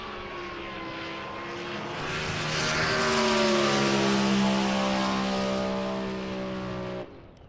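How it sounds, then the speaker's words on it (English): Drag racing hot rod making an elimination run at NJBA May Madness, heard as a loud, steady engine roar with climbing harmonics that swells midway and cuts off sharply near the end. "Nick Childers, loves seeing that hot rod run."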